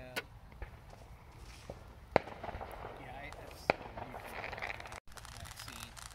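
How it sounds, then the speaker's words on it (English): Fourth of July fireworks burst in the distance, giving a few sharp isolated bangs and crackles against faint outdoor ambience with footsteps, while people talk nearby. "there's some fireworks right there"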